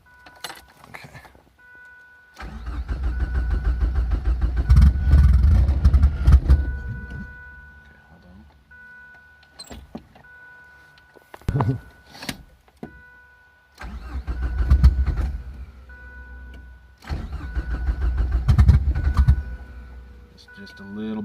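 A Ford Probe running on a standalone ECU cranks and catches in repeated loud bursts, the engine revving briefly with light throttle then dying, several start attempts separated by pauses with brief talk between.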